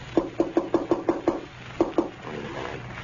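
Someone knocks at a door, first with a quick run of seven evenly spaced raps and then, after a brief pause, two more. The knocks are close and crisp against a quiet room.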